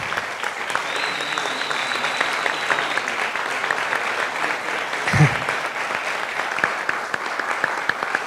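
Sustained applause from an audience at a forum on Costa Rica's sexual diversity movement, a steady dense patter of many hands at moderate distance, with a brief faint voice and a short thump partway through.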